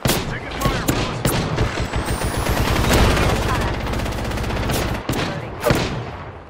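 Automatic weapon fire rattles in sustained bursts through a firefight in the battle royale game Apex Legends, loud and close, with a speaking voice mixed in among the shots.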